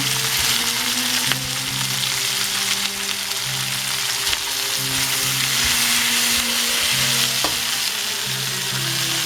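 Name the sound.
tomato added to frying pan with shrimps, sizzling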